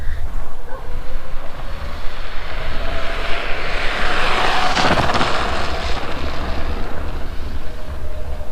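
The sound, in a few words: Toursor E8 Pro electric scooter accelerating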